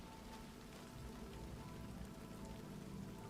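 Steady rain in a scene from Moon Knight episode 5, pattering on a surface, a dense continuous wash of drops with low rumbling underneath, no voices.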